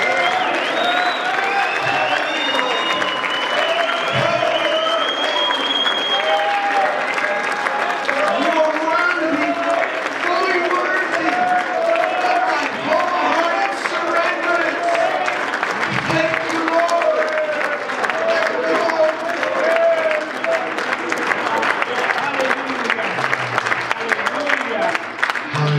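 A church congregation at a Sunday morning men's retreat service claps steadily for about twenty-five seconds, with scattered cheers and voices mixed into the dense, even applause.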